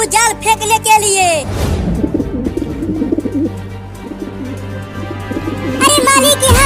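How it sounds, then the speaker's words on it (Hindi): Pigeons coo repeatedly close by, mixed with chirpy bird calls, while voices talk over them. "वो सब कबूतर हमारे दाने को खाने के लिए नीचे उतर रहे हैं।"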